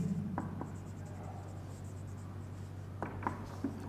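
Pen or chalk writing by hand during a grammar lesson, with faint scratchy strokes in short bursts over a steady low hum, fairly quiet and close.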